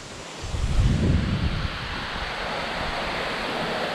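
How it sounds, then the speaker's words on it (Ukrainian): Steady rushing water noise of a river in the Dniester Canyon, broadband and continuous, with a louder swell near the start; sounds like flowing water heard close up with some wind. "От річка тече"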